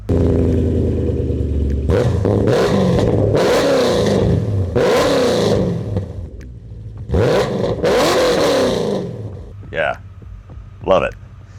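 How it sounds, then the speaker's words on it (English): A BMW E39 M5 sedan in Alpine White, parked in a workshop with no load on it, revs its engine in several sharp blips that rise and fall, close and loud, with short idle gaps and a faint clatter between them. "I'm not revving it too high because it doesn't have any load on it."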